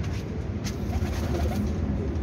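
Steady, close cooing comes from red Indian pigeons with banded tails kept by a breeder in Jhelum, under a constant low rumble of background noise.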